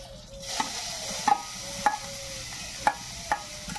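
Fenugreek greens drop into a frying pan, stirred among a few sharp utensil scrapes and clicks over a quiet, steady sizzle with no talking.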